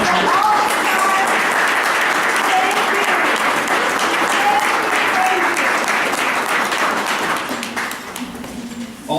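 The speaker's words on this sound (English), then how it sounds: "Are the coordinators available to stand up and be applauded?" An audience gives sustained, loud applause for regional school coordinators, dense clapping that holds steady for several seconds before thinning out at the end.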